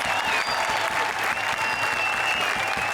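An audience on a televised comedy show gives a strong, continuous round of applause for the three judges, dense and unbroken throughout, with a faint tonal music line above it.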